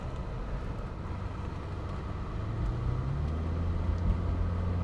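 A Mercedes 300CE W124 coupe drives along, its engine a low rumbling drone under road noise that swells slightly as it accelerates through the gears, heard from inside the car.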